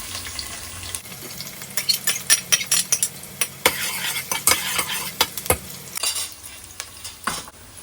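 Onions frying in oil in a pan while a spatula stirs them, giving a steady sizzle broken by repeated scraping and clinking strokes, close and loud with no talk.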